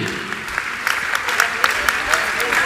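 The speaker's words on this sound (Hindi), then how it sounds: "तालियां बजाइए, तालियां तालियां आपकी बजना चाहिए" An audience at a Jain religious gathering claps together, a dense, steady round of applause with sharp individual claps rising near the end, and no one speaking over it.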